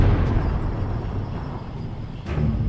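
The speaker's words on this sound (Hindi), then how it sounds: "धमाके पर धमाके हो रहे थे" Rumbling explosions from a burning ammunition truck in an audio drama, a sustained loud low roar with a fresh blast near the end, heard alone without voices.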